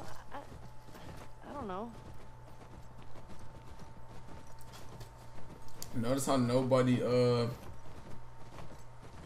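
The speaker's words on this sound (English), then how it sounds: "I'm riding a horse, bruh" Horse hooves clip-clopping at a steady walking rhythm while riding in The Last of Us Part II, soft and continuous beneath someone talking over the game.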